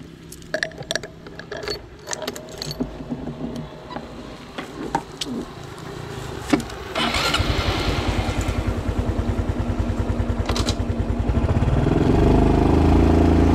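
Motorcycle engine starting and settling into a steady, close idle with a rhythmic chug that swells louder toward the end, after a stretch of faint rustling and clicks.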